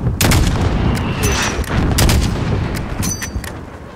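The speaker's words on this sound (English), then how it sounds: "That's a lot of mortars." Mortar and gunfire in the Call of Duty: Modern Warfare video game, with repeated loud booming blasts and sharp reports filling the whole stretch, close and dense, with a whistle passing overhead midway.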